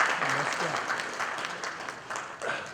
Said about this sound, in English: So a big round of applause for Sagar Sule and team also.